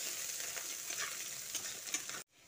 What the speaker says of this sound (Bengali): রসুন ও কাঁচা লঙ্কাটা দিয়ে বেশ খানিকক্ষণ ভাজা ভাজা করে নিচ্ছি